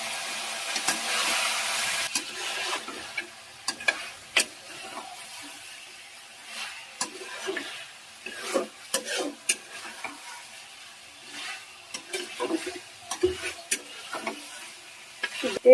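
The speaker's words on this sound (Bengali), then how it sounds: "এই জল দিয়ে মাংসটা আমি কষাবো।" Mutton stir-fried in a pan with garam masala powder and pressure-cooker stock, with steady sizzling and frequent scraping, clattering stirring strokes in an irregular rhythm, close and moderately loud.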